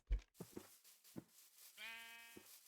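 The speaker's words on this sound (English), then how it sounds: "The bighorn sheep." A bighorn sheep in modded Minecraft gives one clear, wavering bleat after a few short thumps and clicks. The sound is faint and has silent gaps between the parts.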